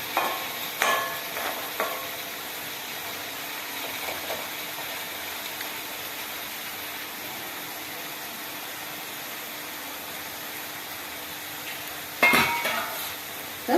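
Broad beans hot curry being stirred in a pan: a few soft scrapes near the start, a long stretch of faint steady sizzle, then a sharp clatter of the spoon against the pan near the end.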